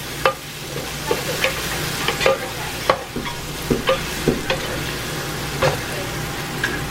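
Onions sauté in a pan for jollof rice under a constant sizzle, with frequent spoon scrapes and taps knocking against the pan, close up and without speech.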